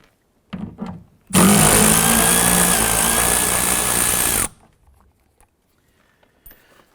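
A power socket tool loosens and removes the mirror bolts on a 2012-2017 Toyota Camry, making one loud, close, steady whirring burst of about three seconds, with a few soft clicks and handling knocks before and after.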